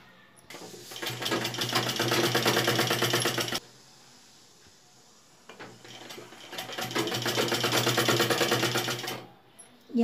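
A sewing machine stitches a collar neck on fabric in two long steady bursts of rapid mechanical chatter, separated by a few seconds of near quiet while the cloth is turned.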